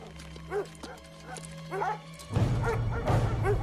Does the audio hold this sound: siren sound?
no